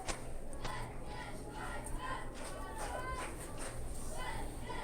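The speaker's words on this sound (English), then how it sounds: "Everybody in the stands hooting, hollering, clapping, screaming, yelling." A crowd in the stands at a freshman high school football game hoots, hollers and claps in a steady wash of cheering, with brief yells rising above the noise.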